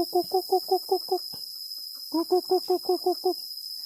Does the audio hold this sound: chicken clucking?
yes